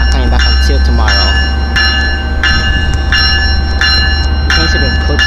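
Metrolink train 320 pulls out of a station bound for the Colton yard, a steady low rumble running throughout while repeated bell-like tones ring at regular intervals above it, loud and close.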